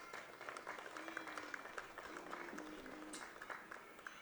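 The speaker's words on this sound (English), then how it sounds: "Let's give them another round of applause" Faint crowd applause at a high school baseball senior night, steady scattered clapping from a distant audience with some voices mixed in.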